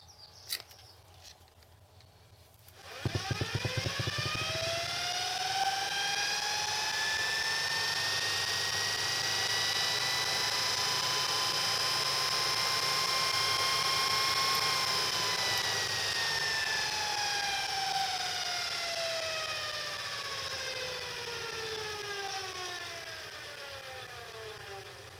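A GE electric motor starts with a click and spins up, its whine rising through several harmonics, holding a steady tone, then beginning to fall; a low-speed vibration hums underneath, close and loud.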